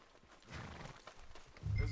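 Horse hooves clip-clop on a street in the video game Red Dead Redemption 2, a soft uneven walking rhythm at moderate distance, ending with a louder low thump.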